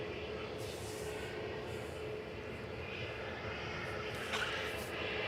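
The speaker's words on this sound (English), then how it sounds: "LS909. It's an" Airbus A321neo airliner on flight LS909 at Manchester Airport, a steady broadband engine roar heard at a distance, holding constant without a clear rise or fall.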